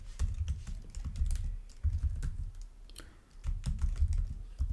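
Java code being typed on a computer keyboard, a close, continuous clatter of keystrokes in uneven bursts with brief pauses between.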